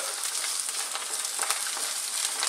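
An egg cracked into the side of a hot pan sizzles beside chicken fried rice, a loud, steady crackling hiss close up with no talk.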